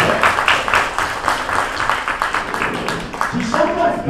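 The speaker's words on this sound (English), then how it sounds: "Let's give them all a round of applause for getting your birthday." A senior center audience claps for a member's 85th birthday, a moderate burst of handclaps with a voice talking over part of it and a short whistle or tone near the end.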